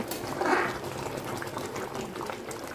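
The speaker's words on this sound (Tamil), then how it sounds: "ஸோ கொதிக்க ஆரம்பிச்சிருச்சு." A pot of mutton biryani masala bubbles at a steady simmering boil, a soft continuous gurgling and popping close by, with no voices.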